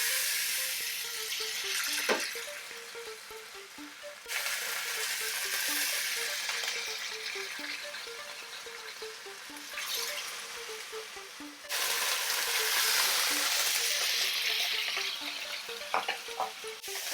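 Pork chops frying in two tablespoons of hot oil over medium-high heat, a steady loud sizzle and crackle that continues throughout, with a few clinks and shifts in intensity, and no voices.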